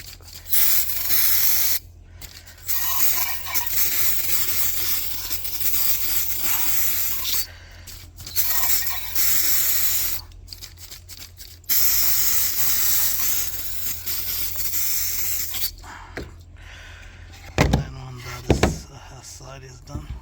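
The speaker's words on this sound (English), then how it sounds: "So we get our cleaner, our electronic cleaner to clean these things." Aerosol electronic cleaner sprays in long hissing bursts onto Mercedes W220 S500 transmission parts, with pauses between sprays and a few clanks of parts being handled near the end.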